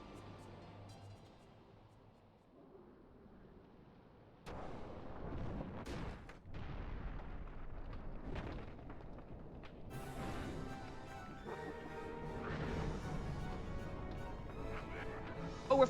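Boss battle against a bomb enemy in Final Fantasy XII: quiet opening, then dense, loud combat sound effects with booming blasts and bright crashing hits that continue steadily to the end.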